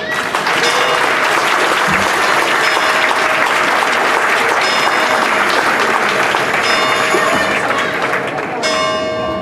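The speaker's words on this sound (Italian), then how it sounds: "facciamo ancora un grande applauso ai piccoli attori della giovane, ma grande direi, filodrammatica tessana" A crowd applauds young amateur theatre actors at an Atessa hometown poetry and song event, loud dense clapping sustained throughout, with a faint bell-like ring near the end.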